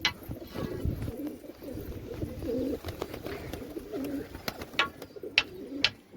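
Several pigeons that have come indoors coo in soft, repeated rolling calls close by, with a few sharper bird sounds and light flutters scattered through.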